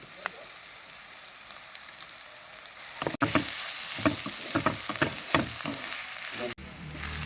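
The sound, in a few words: crushed ginger and garlic frying with onion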